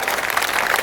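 Brief burst of steady audience clapping at a Hindi poetry recital, dense and moderately loud, with no voices over it.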